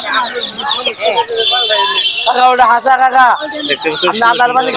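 Ducklings peep and chirp in quick bursts amid busy chatter at Lauhati village market in Delduar, Tangail, Bangladesh, with several people talking close by.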